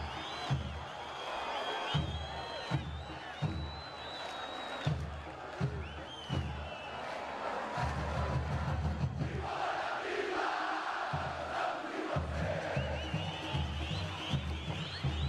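Paraná football supporters in a stadium crowd cheer and chant in a sustained, loud roar with shouts rising over it, continuous throughout.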